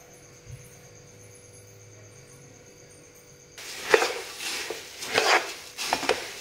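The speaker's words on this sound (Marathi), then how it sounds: "आता याला आपण मोठ्या गॅसवर 1-2 मिनिटं परतून घेणार आहे भडंग. हा असंच पातेलं ठेवून हलवत." Puffed rice bhadang is stirred and roasted over high gas flame in a pot. A quiet lead-in gives way to repeated scraping and rattling of the pan, clattering in uneven bursts, close and fairly loud, with no talking.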